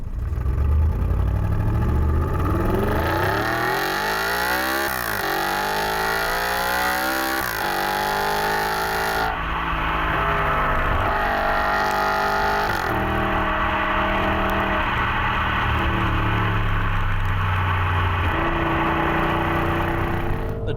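A 450bhp Audi RS5 accelerates hard in first gear on a cold day, the engine note sweeping up loudly through repeated rising revs, close and continuous with a brief shift-like dip before climbing again.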